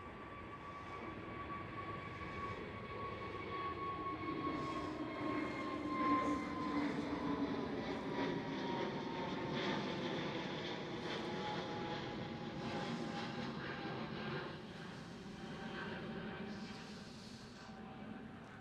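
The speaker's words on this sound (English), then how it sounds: "Airbus A321neo of KLM." A KLM Airbus A321neo on approach passes as a steady, fairly distant jet roar with tones that slowly fall as it goes by, swelling in the middle and easing toward the end.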